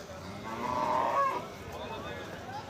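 A single low, drawn-out cow moo rises over faint background noise, lasting about a second before fading into quiet ambience.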